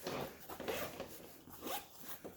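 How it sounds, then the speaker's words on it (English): A zipper on a Monster Energy backpack is pulled open and closed in several quick, close, scratchy strokes. "Zipper."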